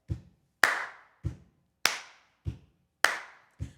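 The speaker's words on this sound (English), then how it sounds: "we're gonna incorporate the jazz stomp clap" A jazz stomp-clap rhythm: a dull low foot stomp alternates with a sharp, bright hand clap in a slow, steady pattern, close and alone, repeating three times.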